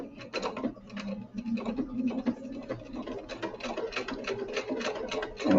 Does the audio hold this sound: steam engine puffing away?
no